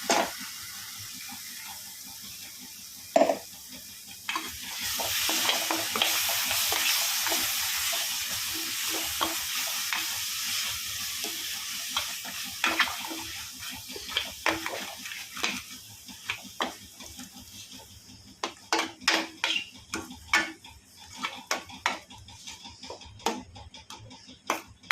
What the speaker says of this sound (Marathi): ह्याला मसाल्याला चांगला तेल येईपर्यंत परतून घ्यायचं आहे